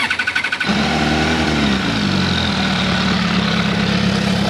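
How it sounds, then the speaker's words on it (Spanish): An MV Agusta F4 RR sport motorcycle with stock factory exhaust cranks with rapid starter pulses, then catches and fires into a loud, steady idle close by, with a brief rise in revs. "ahora lo que vamos a hacer es vamos a prender la moto."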